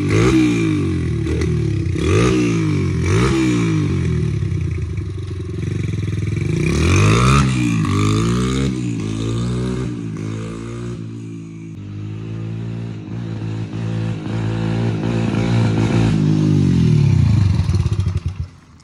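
A Honda CRF100 dirt bike running on E-85 fuel revs up close and loud, its engine bogging and stumbling through repeated throttle blips and longer pulls, with occasional clatter.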